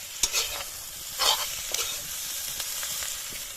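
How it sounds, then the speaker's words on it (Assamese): Pork pieces frying in a hot pan for a dry fry, with steady sizzling and a few sharp scrapes and clatters of stirring, close and alone. "মাংসটো ফ্ৰাই কৰি আছো"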